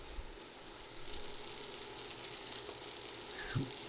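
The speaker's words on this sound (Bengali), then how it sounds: "আর এটাকে ভেজে একদম নরম করে নিতে হবে" Thinly sliced eggplant with a little salt frying in a pan until soft, giving a steady, even sizzle with a brief louder crackle near the end, heard alone without talk.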